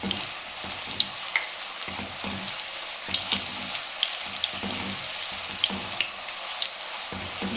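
Puris deep-frying in very hot cooking oil, a dense, close crackling sizzle with scattered pops and spatters throughout, no voices.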